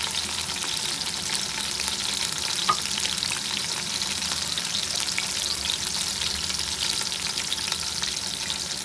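Onions fry in oil in a pot, a dense, even sizzle that holds steady throughout with faint stirring beneath it.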